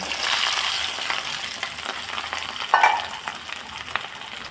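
Dried chillies, shallots and curry leaves frying in a pan for a drumstick-leaf stir-fry, a close crackling sizzle with stirring scrapes and a sharp clatter partway through, no voices.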